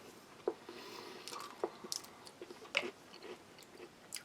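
Someone chews thin, crisp mixed berry oat biscuits from a British Army 24-hour ration pack, with sparse crunchy bites and soft mouth noises spread out, close and quiet.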